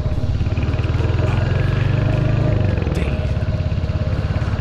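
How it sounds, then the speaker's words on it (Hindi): A Royal Enfield Hunter 350 motorcycle thumps steadily while riding on a road, a loud close single-cylinder pulse continuing throughout, with a faint voice briefly over it. "मैं पहली बार हंटर 350 चला रहा हूँ।"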